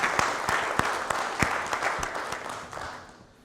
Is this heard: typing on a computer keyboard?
no